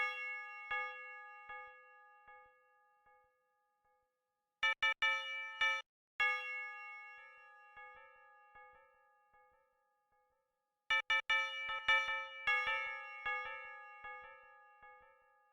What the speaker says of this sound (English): all I did was put down a little bell. And then on the bell, I have some delay on it.